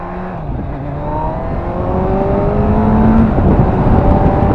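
A Kawasaki Z1000 SX motorcycle accelerates in second gear, its engine note climbing steadily in pitch and loudness with a close, rising drone under wind rush.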